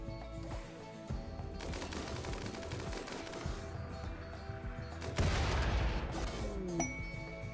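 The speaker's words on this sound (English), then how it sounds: "All mortars, open fire on that auto mortar," In the video game Rimworld, mortars and guns fire at an enemy auto mortar in a long run of dense, rapid gunfire and repeated blasts. A few metallic clinks come through, and a louder burst hits near the end.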